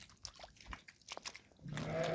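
Sheep and lambs bleat in a muddy farmyard after snow and rain, scattered calls building to a louder, sustained bleat at the end.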